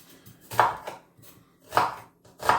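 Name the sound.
chopping food with a knife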